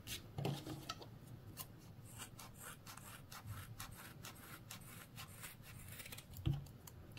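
Scissors trim the yarn of a crochet winter hat into a rounded shape, giving soft, close snips and a rustling, rubbing texture, with a few sharper cuts standing out. No one speaks.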